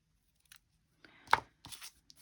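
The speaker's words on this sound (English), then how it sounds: "I'll get my proper little scissors out and make a proper cut." Small craft scissors snip through paper in a quiet room: a few faint clicks, then two distinct crisp cuts close to the microphone, with no voices.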